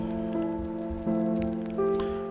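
Rain falls in a Pokémon Brilliant Diamond battle as a steady hiss beneath sustained tonal game music whose notes shift in pitch a few times.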